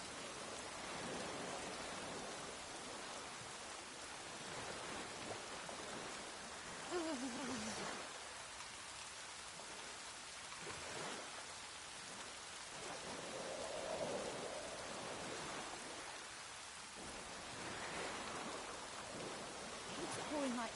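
Heavy in-game rain pours steadily in The Witcher 3: Wild Hunt, a broad continuous hiss with occasional faint surges, close and enveloping throughout.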